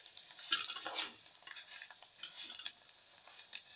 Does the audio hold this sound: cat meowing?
no